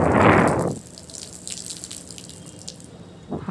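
Water poured out as an offering to the sun during the Ahoi Mata fast, a short gushing splash at the start that quickly fades to quiet trickling and faint background noise.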